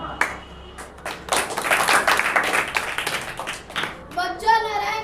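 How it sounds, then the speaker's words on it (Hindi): Audience applause for a school children's staging of the Hindi play Andher Nagari Chaupat Raja, a dense burst of clapping that swells and fades over several seconds, followed by a voice speaking. "जोरदार ताली बजाइए।"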